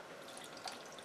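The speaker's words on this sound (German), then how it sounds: "jetzt gebe ich von dem Wasser" About 50 millilitres of water pours into a pot of green Thai curry paste in a steady, close splashing stream, continuous and unbroken for about a second.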